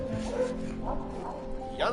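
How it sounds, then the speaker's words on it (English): Dogs bark and yip somewhere off in the distance, faint under steady game music from Hollow Knight: Silksong, with a person talking over it. "I hear my dogs barking."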